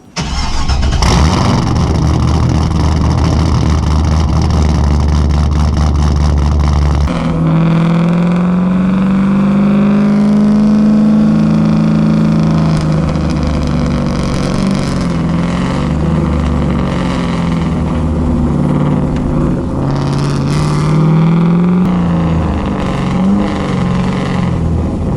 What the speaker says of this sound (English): we're gonna go for a drive, see how it is